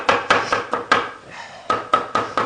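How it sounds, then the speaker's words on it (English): Knife chopping food on a cutting board: a run of sharp, evenly spaced close thuds, a short pause, then another quick burst of chops, with no talking. "let's keep on chopping them up"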